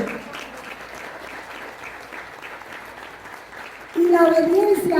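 Church congregation applause during a sermon, a soft spread of clapping from the room that a louder sustained tone cuts across near the end.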